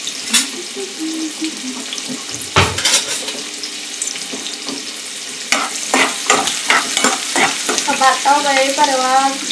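Chopped medium onion dropped into hot oil sizzles and crackles steadily, with scraping stirs and a few clinks of a spoon against the pan, and no talking.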